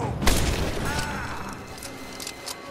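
An explosion in Rise of the Tomb Raider goes off early as a single heavy boom, followed by a rumbling tail and scattered debris pops.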